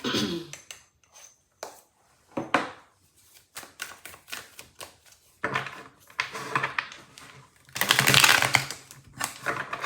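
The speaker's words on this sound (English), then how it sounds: "was a shitty shuffle" Crisp riffling and slapping of tarot cards being shuffled, bursts of quick papery flutters separated by short pauses, close and clear.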